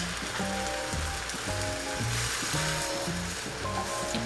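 A thin layer of beaten egg sizzles in a hot rectangular pan while tamagoyaki is rolled, a steady crackling hiss that runs under soft background music.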